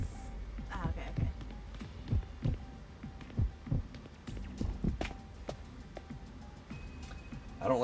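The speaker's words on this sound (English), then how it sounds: "I don't like hearing the heartbeats in my ears." Heartbeat sound effect in a video game, a steady series of low, thudding pulses repeating through the stretch, with people talking over it intermittently.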